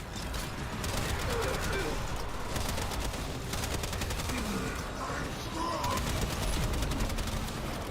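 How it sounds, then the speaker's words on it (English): An automatic shotgun fires in Warframe as a steady run of rapid, dense blasts with hardly a pause, loud and continuous across the stretch amid busy game noise. "This might actually be an automatic shotgun"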